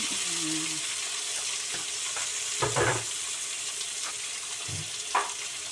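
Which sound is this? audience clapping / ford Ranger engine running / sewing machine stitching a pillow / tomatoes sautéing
tomatoes sautéing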